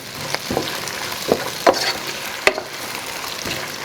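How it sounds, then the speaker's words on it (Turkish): Onions sizzling steadily as they caramelize in a pan, with a few scattered scrapes and clinks of a utensil stirring through them. "Kavurmaya devam."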